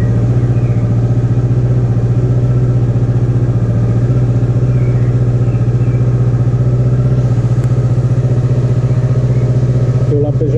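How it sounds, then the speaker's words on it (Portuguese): A cold 2018 Kawasaki Versys 650 engine idles steadily near 1800-2000 RPM nearby, a constant low throbbing hum with faint mechanical clatter, running alone for the whole stretch. "Com a moto fria, ela fica próximo de 2000 RPM, 1800 aproximadamente"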